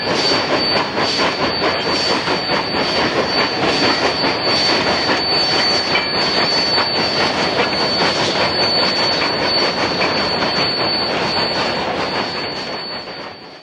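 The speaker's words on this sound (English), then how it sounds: "K37 engine number 498 is helping 483 to Cumbres due to the train being about 12-15 cars" A Denver & Rio Grande Western narrow gauge train, double-headed by K-37 steam locomotives climbing a 4% grade, rumbles past close by, wheels clattering steadily on the rails with a continuous roar that fades slightly at the end.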